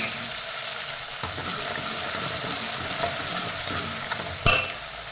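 Dried black nightshade berries fry in hot oil, giving a soft, steady sizzle with occasional light stirring scrapes and a sharp utensil clatter near the end.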